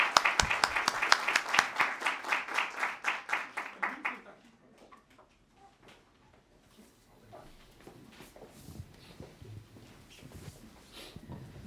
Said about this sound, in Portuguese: eu peço então uma salva de palmas à senadora Cátia Abreu